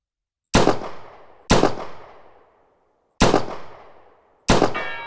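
Four sharp, loud gunshots fire one at a time with uneven gaps, each cracking close and decaying quickly, from a handgun in the PractisimVR shooting game's practice gallery.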